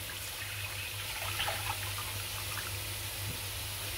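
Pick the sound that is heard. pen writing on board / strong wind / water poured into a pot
water poured into a pot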